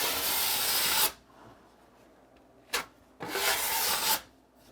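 A drywall knife scraping joint compound flat on a wall, heard as close rasping strokes: one long pass, a brief swipe, then another long pass, with quiet gaps between.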